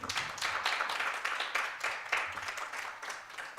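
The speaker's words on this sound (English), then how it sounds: "please, a big round of applause" Audience applause at the close of a personal branding session, a steady wash of many hands clapping at moderate level throughout, fairly close, with no voices over it.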